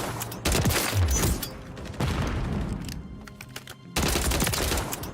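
Rifle gunfire from sniper play in the video game Call of Duty: Modern Warfare III, a dense run of loud, close shots and booming blasts in several bursts, with no voices over it.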